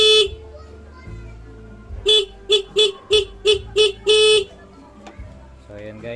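A Raider 150 motorcycle horn being tested sounds in a single beep followed by a quick series of about eight short honks, then one longer blast, with low background noise between.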